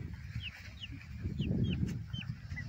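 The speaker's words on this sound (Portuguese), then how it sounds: "Elas são chamadas de galinha da Angola, cocá" Helmeted guineafowl give a series of short, high squeaky calls at a steady pace over a low murmur of clucking birds nearby.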